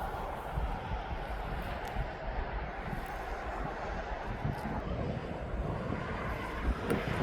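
Jet aircraft descending toward East Midlands Airport, a broad steady engine roar with wind buffeting, distant and continuous with no talk.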